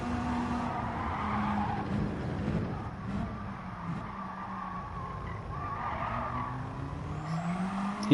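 A race car in Gran Turismo 7 slides on the handbrake, its tires squealing in long wavering skids over a steady engine drone. The sound carries on for several seconds, loud and continuous.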